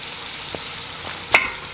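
Onions sauté in oil inside a cast iron Dutch oven at a campground, a steady close sizzle with a few soft stirring scrapes and one sharper clack near the end.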